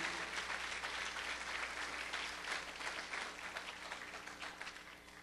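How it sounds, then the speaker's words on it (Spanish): A congregation applauds during a Spanish-language church service, sustained dense clapping for several seconds with a low hum beneath, no speech over it. "Dale un aplauso al Rey."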